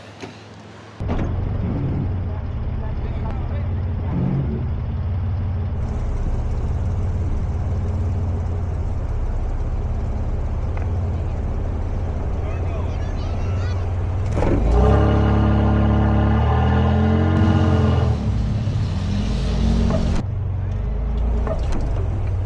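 Honda car easing down off a berm on light throttle, a low steady engine hum with a brief louder rumble and rattling midway, while people talk nearby.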